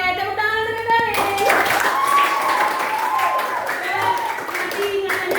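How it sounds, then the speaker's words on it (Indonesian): A school class of children claps hands in unison during an eighth-grade social studies lesson, a sharp burst about a second in, with a steady hum, voices and a soft background wash around it. "Oke, tepuk tangan sekali."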